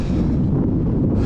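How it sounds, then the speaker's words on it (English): Steady wind gusting across an outdoor mountain-bike trail in Sedona, a loud, continuous low rumble buffeting the microphone with no break throughout. "it's starting to get windy"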